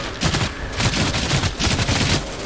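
Rapid automatic gunfire from the video game Outriders comes in loud, close bursts of dense, rattling shots with short gaps between volleys.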